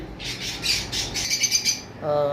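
Several harsh, high-pitched squawks from blue lovebirds in quick succession, close and loud, followed by a brief tonal call at the end.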